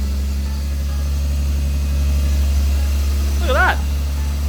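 A 1977 Toyota Celica RA28 engine idles after a cold start with a steady low rumble at an even pace, around 1,000 RPM, while a voice briefly speaks over it near the end.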